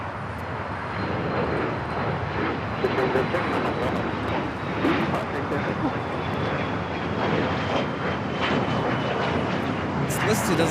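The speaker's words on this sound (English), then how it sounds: "corporate jet taking off here on the south side" Corporate jet, listed as a C700, taking off from the south side at LAX, a steady broadband engine roar with wind noise that stays loud throughout, with someone talking over it.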